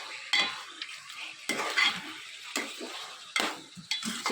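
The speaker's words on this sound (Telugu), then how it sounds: "చికెన్ ఎక్కువసేపు ఉడకనిచ్చుకోండి." Chicken curry cooking in a pan, stirred in several bursts with a utensil scraping and clinking against the pan over a soft sizzle, close and fairly loud, with no talk.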